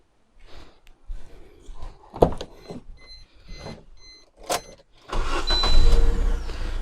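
A Maruti Suzuki Ertiga is started: several clicks and short mechanical sounds are followed by the engine catching and settling into a loud, steady idle for the last couple of seconds.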